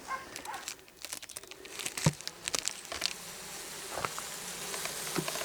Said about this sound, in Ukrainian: Бжілки живі гудуть, ну і вже активні.